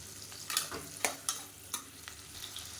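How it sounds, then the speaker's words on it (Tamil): Small shallots softening in a pan for a Madurai-style chicken uppu kari, a faint low sizzle with several crisp spatula scrapes and taps clustered in the middle, quiet and close, no speech. "இப்போ சின்ன வெங்காயம் லேசாக வதங்கிடுச்சு"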